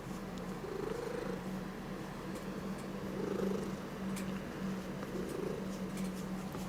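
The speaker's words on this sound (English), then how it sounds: "I don't know if you can hear her purring or not." A cat tucked against the microphone purrs softly and steadily, the low rumble swelling in slow breaths over a faint background hum.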